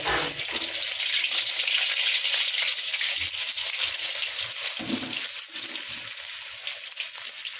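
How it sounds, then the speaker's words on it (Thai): Sweet fish fries in oil with a loud, dense, continuous hiss and crackle that eases slightly toward the end, heard up close with no one speaking. "แล้วก็เอาปลาหวานอันใหม่ลงไปทอดเลย"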